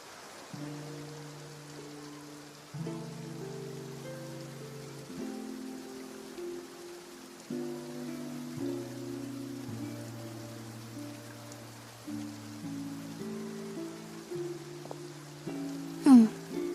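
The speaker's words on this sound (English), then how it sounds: "Looks like rain." Rain falls in Genshin Impact's Fontaine region as a soft, steady hiss beneath calm, sustained background music, with no voices.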